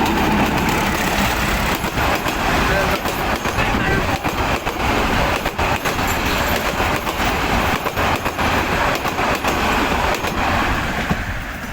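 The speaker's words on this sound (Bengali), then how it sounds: "পাশে একটা ট্রেন আসছে কিন্তু হ্যাঁ আমরা একটু ট্রেনটা দেখবো যে একটা ট্রেন আসতেছে" A train passes close by, its wagons rumbling with continuous clickety-clack rail rhythm and occasional wheel squeal, loud and sustained throughout.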